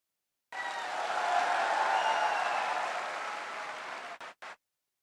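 Sustained crowd applause at a motivational Success Day event in Meerut, rising to a dense roar of clapping, holding steady for several seconds, then fading out in a few final bursts.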